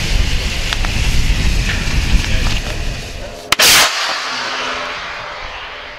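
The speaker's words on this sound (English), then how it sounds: "We show them with the different types of flares, and we allow them to actually shoot them off" A safety flare is fired off during fishing-crew safety training: a sharp pop followed by a brief, loud fizzing whoosh, heard outdoors over windy background noise.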